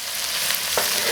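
Beef pizzle and chili peppers frying in a wok, a loud, close, continuous hiss of sizzling with a brief scrape partway through.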